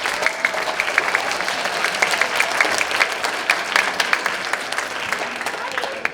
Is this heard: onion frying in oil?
no